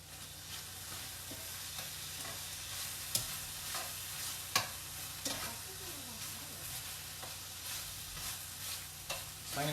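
Onions sizzle and fry in sesame oil in a pan while being stirred, a steady crackling hiss broken by sharp scrapes and clinks of the utensil, up close and without talk.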